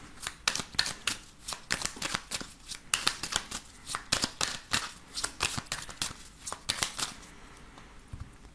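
Oracle cards are shuffled and cut by hand, a close, rapid series of crisp riffling slaps and flicks in uneven bursts over near-silence.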